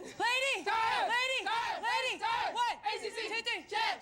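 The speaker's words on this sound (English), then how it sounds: "They close the workout, of course, with a cheer" A college football team's players shout a rhythmic call-and-response chant together at the end of a workout, several loud voices in quick bursts.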